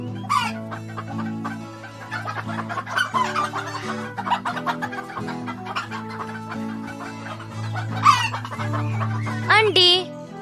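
A chicken clucks in quick, repeated bursts over a background music bed, ending with a louder squawk.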